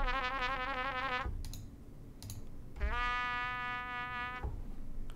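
Shake articulation from Logic Studio Horns: a brass chord with rapid wavering pitch, then a held brass chord after a pause with a few key clicks, bright and close.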